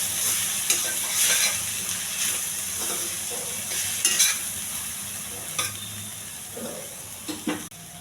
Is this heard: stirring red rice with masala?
yes